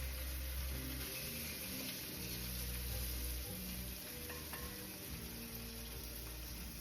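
Hamburger patties sizzle steadily in a pan, a constant close frying hiss with a few faint clinks and no talking.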